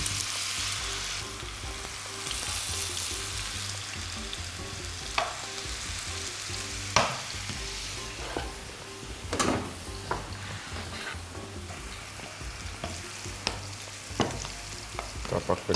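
Steady sizzling of Shirak papkeni frying in a pan, a continuous crackling hiss with occasional sharper pops and stirring clinks scattered throughout, close and moderately loud with no talking.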